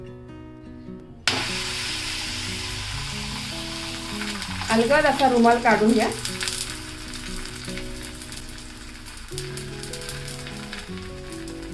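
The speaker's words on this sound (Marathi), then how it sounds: "आता आपण हे थालीपीठ तव्यावर घालूया" A bajra and spring onion thalipeeth goes onto an oiled griddle with a sudden loud sizzle that settles into a steady crackling hiss, flaring louder midway as someone talks over it.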